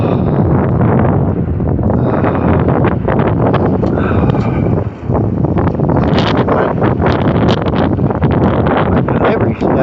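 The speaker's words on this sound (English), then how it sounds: "It's like a 50-mile-an-hour gusting wind." Strong gusting wind of about 50 mph after storms batters an outdoor microphone with loud, continuous broadband roar and buffeting, near and steady for the whole stretch with only a brief dip.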